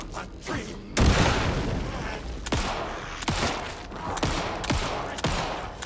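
Gunfire at monsters in the horror video game Alan Wake 2: several sharp shots spread irregularly across the stretch over a low rumbling game backdrop, with faint speech underneath.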